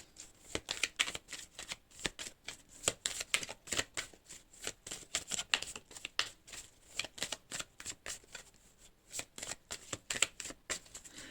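Cards shuffled by hand for a zodiac card reading, a steady run of crisp riffling snaps repeating through the whole stretch, close and fairly quiet, with no voices.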